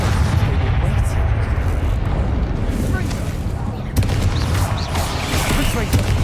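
Bombarda spell explosions in Hogwarts Legacy combat: continuous booming, rumbling blasts with a sharp burst midway, dense low-end roar throughout, with a voice present.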